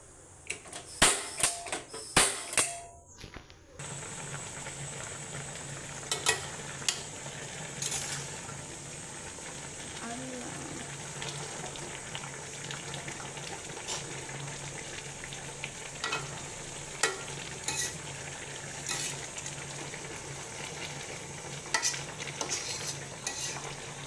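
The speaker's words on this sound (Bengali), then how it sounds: "আমি একটু নেড়ে চেড়ে দিলাম, একটু ভালোভাবে তল উপর করে দিলে সিদ্ধ হবে সুন্দর।" Food frying in oil in a home kitchen pan is stirred and turned, giving a steady sizzle with scraping utensil clicks, after a few sharp knocks at the start.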